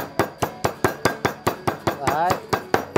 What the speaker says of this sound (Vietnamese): Sau khi mà chúng ta thái xong rồi chúng ta sẽ lấy búa dần này